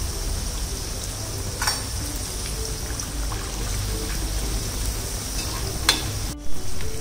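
Potato and brinjal bhaji fry in hot oil with a steady, dense bubbling sizzle, close and fairly loud, with a couple of small clicks and no talking.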